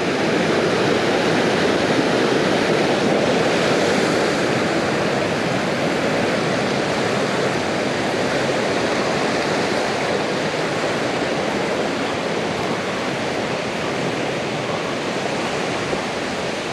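The Dainichi Falls at Akame 48 Falls, Japan, roars in a steady, dense rush of white noise that continues unbroken throughout.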